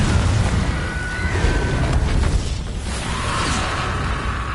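The Confringo spell in Hogwarts Legacy goes off with a loud, booming blast and a whooshing burst, then a rumbling tail fades out.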